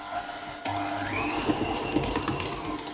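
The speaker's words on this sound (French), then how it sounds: "maintenant, on va partir au robot, d'accord, et on pétrit pendant environ 5 minutes" A stand mixer starts up and kneads brioche dough with a steady motor whir and a rising whine, close and continuous, with faint knocking from the dough in the bowl.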